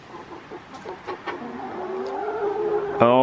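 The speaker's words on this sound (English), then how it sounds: "Is it just chickens in here?" Chickens cluck inside a coop on a farm during rain, a few short clucks and a rising drawn-out call up close, then a sudden loud tonal burst at the end.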